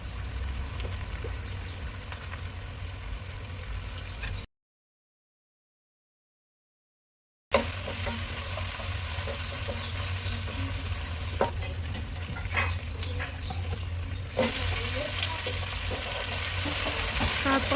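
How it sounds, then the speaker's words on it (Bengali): Onions frying in a pan for a potato and prawn curry, with ginger garlic paste going in: steady close sizzle with stirring scrapes throughout, broken by a few seconds of silence midway, no talk. "যখন পেঁয়াজটা ভাজতে ভাজতে একটু কালার চলে আসবে তখন আমরা এখানে অ্যাড করব আদা রসুন বাটা"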